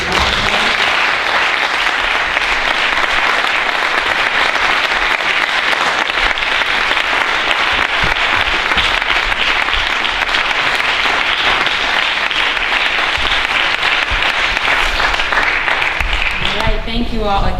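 A crowd at a Dr. Martin Luther King Jr. celebration applauds in a long, even, dense wash of clapping, with a voice coming in at the very end.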